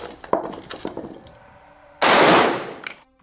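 A single loud gunshot from a supercharged magnum slug load, an abrupt blast that rings out and decays over about a second, following some quieter handling noises and voices.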